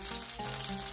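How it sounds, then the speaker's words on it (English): Garlic frying in a pan for a plantain banana shrimp bowl, a steady, close sizzle that holds evenly for the whole second with no talking. "I'm just gonna add our garlic."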